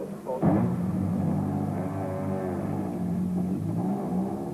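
Rally cars from a 1989 international rally setting off to the next stage, with an engine rumbling and revving steadily after a sudden onset, the tone rising and shifting as it pulls away at moderate distance.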